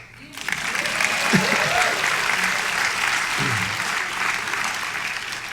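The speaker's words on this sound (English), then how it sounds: "You can applaud." A Toastmasters audience breaks into applause that swells quickly and holds steady for several seconds, a dense crowd clapping with a voice or two briefly audible beneath it.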